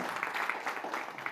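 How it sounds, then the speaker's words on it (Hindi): A crowd at a women's honouring ceremony gives dense, even applause, many hands clapping together at a moderate distance. "इस बात के लिए जोरदार तालियां हो जाएं।"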